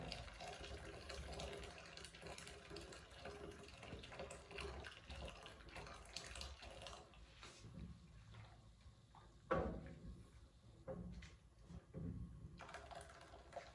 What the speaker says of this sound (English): I'm going to put some boiling water now.